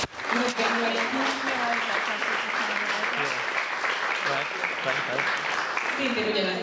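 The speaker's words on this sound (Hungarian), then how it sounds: "Akkor egy tapsot kérnék rá." An audience at a makeup demonstration gives steady, close applause that fills the whole stretch, with voices talking over the clapping throughout.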